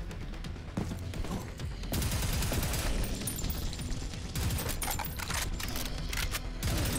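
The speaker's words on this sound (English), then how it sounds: "you can use both mouse buttons at once to shoot both guns" Dual guns firing together in Prodeus, a retro-style first-person shooter: dense, rapid bursts of gunfire stutter on and off over several seconds, loud and close, with brief gaps between volleys.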